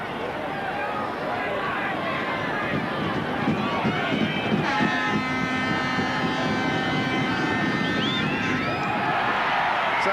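Rugby league crowd at a 1987 Eastern Suburbs match cheering Dave Smith's conversion kick, a loud sustained roar of many voices with a commentator talking over it.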